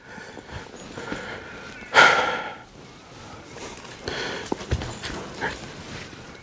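Hoofbeats of a horse cantering around a round yard, moderately close, with one loud burst near the two-second mark and softer irregular thuds and snorting-like noises through the rest.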